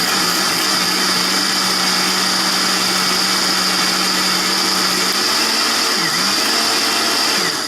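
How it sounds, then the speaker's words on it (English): A blender purees chickpeas into a keto Asian chili paste, its motor running steadily with a high whine for several seconds before the pitch wavers and dips near the end, loud and close with no talking. "we're just going to puree that"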